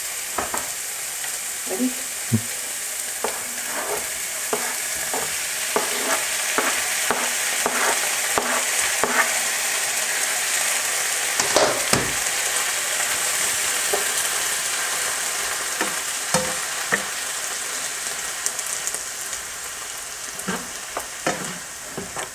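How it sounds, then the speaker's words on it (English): Garlic, diced onions, mushrooms and tomatoes sauté in a hot pan, giving a steady loud sizzle broken by repeated scraping stirs and clacks of the utensil, with a brief spoken word partway through. "now we are going ahead and sauteing garlic, diced onions, mushrooms, and we'll add the tomatoes."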